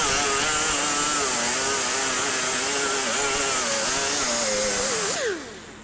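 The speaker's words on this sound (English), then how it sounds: "Now I'm basically grinding all my weld off, getting ready for prep it for body work." A power grinder runs continuously against weld seams on a welded-in car patch panel, a loud steady whine with wavering pitch that holds for several seconds before spinning down and cutting off.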